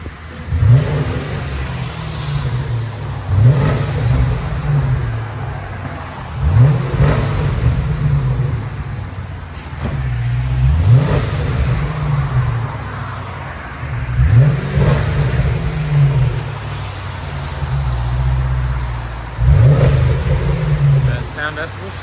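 A 2002 Ford Thunderbird's 3.9L V8 rumbles and revs repeatedly in short bursts every few seconds, throaty and loud through Borla S-Type rear mufflers and stock mids, idling low between blips.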